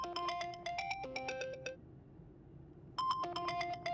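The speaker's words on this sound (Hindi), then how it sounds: "फोन बज रहा है आपका।" An electronic ringtone plays a bright melodic pattern of tones, pauses briefly, then starts again, fairly faint over a low background hum.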